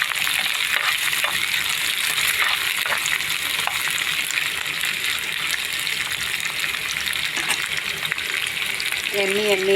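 Sliced onions frying in a pan for prawn dum biryani give a loud, steady, close sizzle with crackle that runs unbroken the whole time, with a faint murmur of voice near the end.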